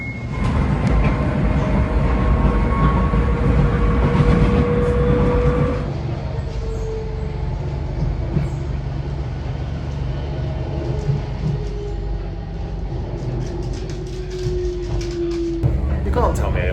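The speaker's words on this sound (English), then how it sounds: "this train isn't the quietest" A DLR light rail train in London rumbles steadily along at close range, with a continuous low roar and thin metallic squeals drifting over it.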